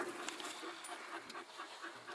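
A dog pants rapidly and steadily at close range, breathy and rhythmic, inside a small rock cave on a desert hike near a slot canyon.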